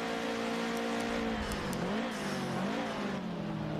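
A Subaru Liberty race car in a Fast 4s round revs its engine with a steady, loud drone that dips and climbs in pitch twice, heard alone without talk.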